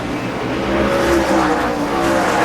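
NASCAR Busch Series race cars roar past at speed while one overtakes another, a loud, steady engine drone holding throughout with slight rising and falling pitch as they pass.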